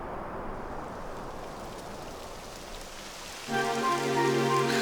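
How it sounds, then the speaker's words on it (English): Steady rain patters down evenly in Dragon Quest XI, a dense hiss of drops; near the end a sustained musical drone swells in over it. "It would have to go and start raining, wouldn't it?"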